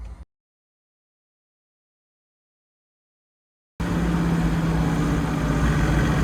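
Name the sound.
Datsun with OM606 diesel engine and mechanical fuel pump driving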